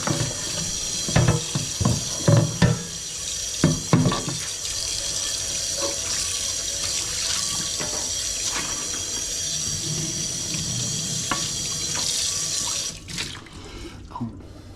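A kitchen tap runs steadily while dishes are washed with soap to clear off oil, with clinks and knocks of crockery early on and a continuous close water rush throughout.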